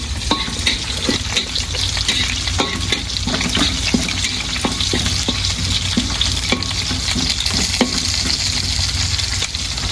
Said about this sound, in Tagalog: Prito pa tayo itlog.